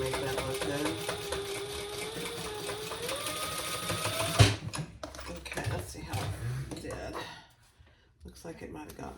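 A sewing machine stitching a Brix Bag crossbody, a steady close mechanical whir with fast needle rhythm that stops abruptly midway, followed by quieter handling noises and soft talk.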